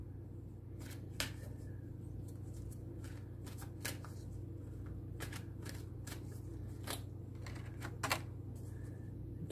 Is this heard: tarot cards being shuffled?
yes